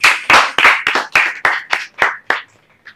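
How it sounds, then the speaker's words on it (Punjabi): Loud, enthusiastic hand clapping for a girl student, about ten sharp claps in a steady rhythm that slow slightly and fade out at the end, close by with no talking. "ਜ਼ੋਰਦਾਰ ਤਾੜੀਆਂ ਕੁੜੀ ਲਈ"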